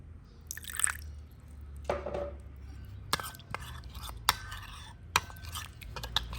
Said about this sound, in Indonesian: Diaduk rata sampai kekentalannya seperti ini ya.